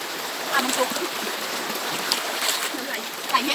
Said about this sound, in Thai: น้ำไหลเห็นไหม